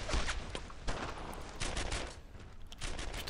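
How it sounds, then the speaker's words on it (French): Suppressive gunfire aimed at a tank in the World War II shooter Brothers in Arms: Earned in Blood, dense overlapping rifle and machine-gun bursts rattling continuously at close range, loud and without talk. "Tire de suppression sur le tank"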